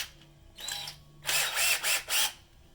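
A power drill with a step bit whirs close by in a few short bursts, spinning up and stopping repeatedly, with a faint whine before the bursts begin.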